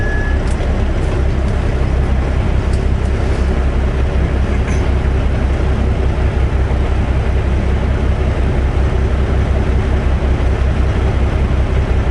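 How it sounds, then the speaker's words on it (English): A train rolls past on shiny track in the Spokane Valley area, a loud, continuous low rumble of wheels and cars close by, steady and unbroken for the whole stretch. "Train coming over here."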